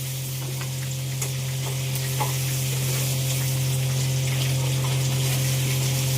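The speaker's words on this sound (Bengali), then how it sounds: "আস্তে আস্তে কড়াই নাড়ো" Continuous sizzling from semolina in a hot wok with soft scraping and stirring sounds over a steady low hum.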